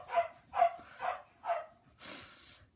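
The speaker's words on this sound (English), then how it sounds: "I don't know if you could hear that barking" A dog indoors gives four sharp, evenly spaced barks, followed by a softer, breathy vocal sound, all fairly close and clear against a quiet background.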